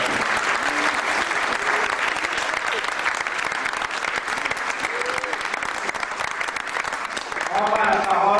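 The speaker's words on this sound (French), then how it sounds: "que nous applaudissons très très fort" Sustained applause from a gala audience honoring the president of the Republic of Montmartre fills the room, dense steady clapping throughout with voices mixed in underneath.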